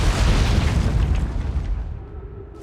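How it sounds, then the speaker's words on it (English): Deep, rumbling explosions from a video game boom loudly and continuously, a dense low roar that slowly fades toward the end. "And these explosions."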